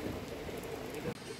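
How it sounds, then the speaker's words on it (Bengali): Heavy rain pours down outdoors beside a parked KTM 390 Adventure motorcycle in winter, a dense steady hiss of drops drumming on surfaces, faint and continuous with no voices. "বেশ ভালোই বৃষ্টি হচ্ছে, দেখতে পাচ্ছ, জোরেই পড়ছে বৃষ্টিটা।"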